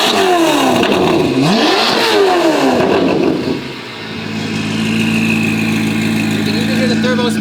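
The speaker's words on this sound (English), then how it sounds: "Let it warm up for a second and we're gonna give it some revs." A Corvette C8 ZR1 with a loud custom exhaust barks through several sharp revs up and down, then drops back to a steady, rumbling idle, all close and loud.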